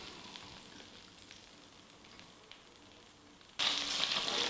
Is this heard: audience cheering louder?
no